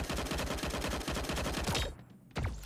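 Rapid automatic gunfire from a weapon fitted with a 3x scope in the game Sausage Man, a steady stream of close shots for nearly two seconds, then a pause and one more burst.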